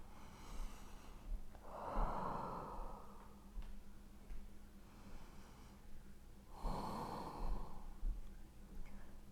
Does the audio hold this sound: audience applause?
no